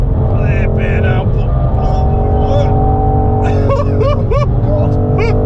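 A 2021 BMW M440i takes a fast lap of the Goodwood Motor Circuit, its engine droning loud and steady while rising whines and tire squeals cut in near the end. People talk excitedly over the car noise.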